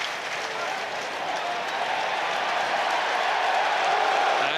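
Rugby World Cup crowd at Ireland versus Namibia cheering and applauding as Namibia drives forward, a broad continuous roar that swells gradually louder, with faint commentary beneath.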